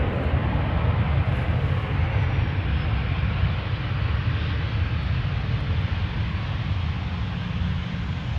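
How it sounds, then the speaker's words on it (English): A Transavia airliner arriving at Amsterdam Schiphol from Valencia, its engines giving a steady, broad roar with deep low rumble that holds at a constant level, distant and unbroken. "Transavia arriving from Valencia, flight 6336"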